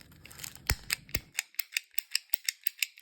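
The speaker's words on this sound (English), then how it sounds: "There we go, back to 0. And stitch counters always come in handy." A handheld stitch counter is clicked rapidly back to zero, a string of about fifteen crisp, evenly spaced plastic clicks, close and clear with nothing else in the background.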